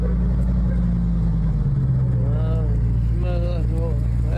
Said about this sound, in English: That's the exhaust burning off.